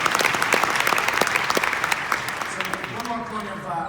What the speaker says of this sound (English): Just give yourselves a big round of applause